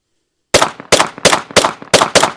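A handgun fitted with a radiant afterburner recoil-reducing attachment fires six sharp, loud shots alone, spaced roughly every half second after a moment of silence.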